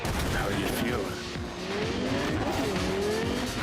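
A car in the video game Cyberpunk 2077 driving fast with a loud continuous engine roar and tire squeals, skidding through turns under game music, with no clear impact standing out.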